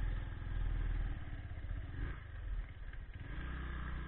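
A motorcycle labours uphill over sandy terrain near Mount Bromo, its engine droning loud and steady with clattering from the ground and a brief dip in the middle.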